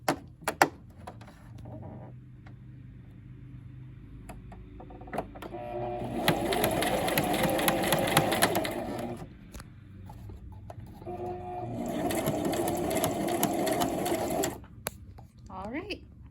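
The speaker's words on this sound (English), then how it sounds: "I'm going to join it together and create that zigzag stitch" A sewing machine zigzag-stitches skirt elastic together in two loud, fast mechanical runs of several seconds each. Short pauses and small clicks separate the runs, and someone talks at a lower level during the quieter parts.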